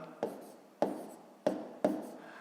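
Pen writing digits on paper for a fifth-grade column subtraction problem, four quiet, close strokes evenly spaced, each a short tap followed by a brief scratch, with no talking.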